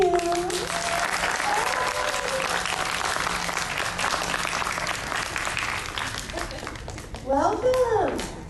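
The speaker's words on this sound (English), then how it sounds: "Please give a great big round of applause for Miss Heather Donahue." A fan convention crowd at Days of the Dead in Atlanta applauds a guest, steady clapping from a sizable audience under scattered voices and a few cheers, tapering toward the end.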